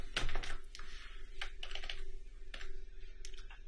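A phone number typed on a computer keyboard, heard as brisk, close, irregular key clicks in short bursts over a faint steady hum.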